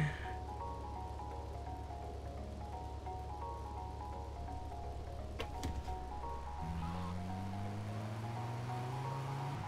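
Rain falls at night in the video game GTA Vice City, a steady soft hiss running throughout under low humming tones and a faint game soundtrack.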